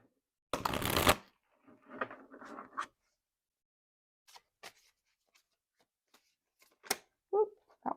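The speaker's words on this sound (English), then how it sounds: "I'm going to go ahead and pull a Green Witch Oracle card" Green Witch Oracle cards are shuffled in a quiet room: one loud riffling burst near the start, followed by softer sliding and tapping of cards and a few scattered light clicks.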